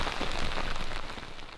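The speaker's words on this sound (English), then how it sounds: "He wasn't kidding about the rain." Steady rain falls on surfaces in a wet forest setting in Ecuador, a dense, even hiss close at hand that eases slightly toward the end, with no voices.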